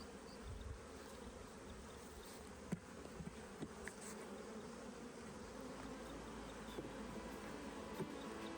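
Bees hum and buzz in a dense, steady swarm around an opened, smoked hive, a soft continuous drone with occasional closer passes and faint clicks, with no talking over it.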